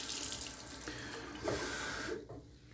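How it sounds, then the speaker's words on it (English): Tap water runs steadily into a Fuji shaving mug, a continuous close hiss and splash that shifts in pitch as the stream changes and briefly cuts off near the end. "I'm going to add some more water to my Fuji mug."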